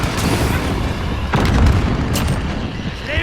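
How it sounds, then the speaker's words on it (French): A loud grenade blast in the shooter game Call of Duty Modern Warfare, a heavy booming burst over constant dense gunfire and battlefield noise, with no clear talk over it. "Grenade lancée."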